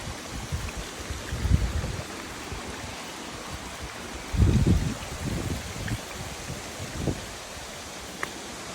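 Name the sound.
stream water flowing near Abha falls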